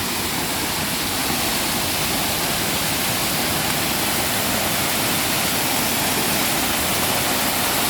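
A large waterfall of fast-flowing spring water roars steadily and loudly throughout, a dense, unbroken rush with no voices over it.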